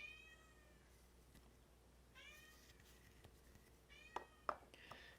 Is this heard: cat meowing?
yes